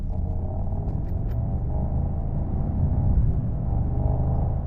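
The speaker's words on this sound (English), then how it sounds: "you get such a wonderful, deep V8 rumble" Deep, steady V8 exhaust rumble from a Mercedes-AMG GT 55 coupe with its cross-plane V8 in comfort mode and the exhaust flaps open, a continuous low drone at constant loudness with no talking.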